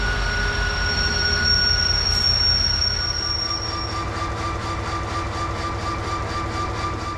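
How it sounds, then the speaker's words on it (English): A Croatian Railways Series 2044 locomotive train rolls steadily along the rails with a constant rumble and high metallic wheel squeals, then a rhythmic clatter of wheels over joints. "Our next locomotive is a Hrvatske Željeznice Series 2044"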